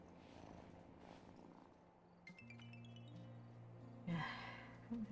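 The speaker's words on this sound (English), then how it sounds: "Let's pet the kitty, 'cause we can" A cat purring as it is petted in the video game Wylde Flowers, a soft steady rumble with a few brief chirpy tones layered on top, fairly quiet throughout.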